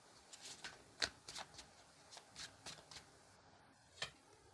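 Tarot cards riffled and shuffled by hand in a quick series of crisp, papery flicks, close and fairly quiet, ending with a single card snapped out alone.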